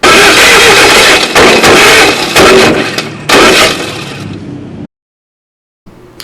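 A Land Rover 6x6 engine runs loudly and close, with rough, surging bursts through the first few seconds before it cuts off into silence and briefly returns at the end.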